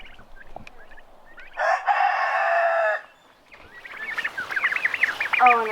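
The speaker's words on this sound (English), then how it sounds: "Can you come protect me from this rooster?" A rooster crows loudly and close by in a garden where potato beds are being harvested, one long sustained call followed by softer birdsong and chirping.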